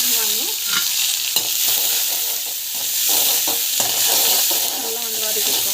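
Onion sautéing in a pan with mustard seeds, cumin, urad dal, chana dal and garlic gives a steady, close, loud sizzle throughout, with scraping stirs cutting in now and then.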